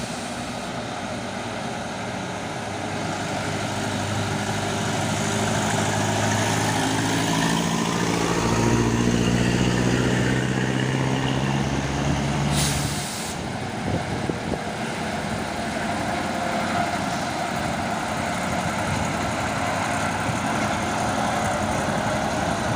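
A heavy Hino trailer truck engine rumbles steadily nearby, its deep drone swelling and shifting pitch as it works, with a brief hiss partway through.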